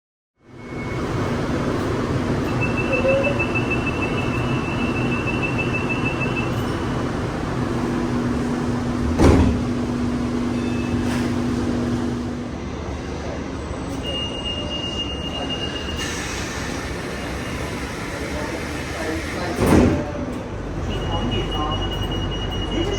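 Train doors closing at a railway station, heard as a steady rumble of station and carriage noise with two sharp thumps of the doors shutting, one near the middle and one near the end, plus a few brief electronic tones.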